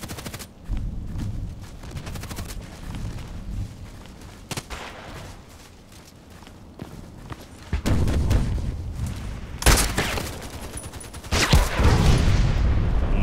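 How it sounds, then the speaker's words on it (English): Sniper gunfire rings out in the video game Contract Wars: several sharp, loud shots spaced irregularly over ongoing ambient game noise, with heavier bursts toward the end. "We shoot from here."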